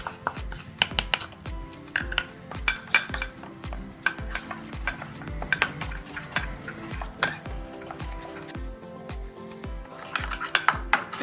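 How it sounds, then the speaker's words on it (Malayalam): Wheat flour being mixed into milk in a bowl for a coffee dessert, with a spoon clinking rhythmically against the bowl's sides, close and crisp, repeating steadily throughout with no talk. "അതിലേക്ക് നമുക്ക് ഈ ഗോതമ്പ് പൊടി ഇട്ട് ഒന്ന് മിക്സ് ചെയ്യണം"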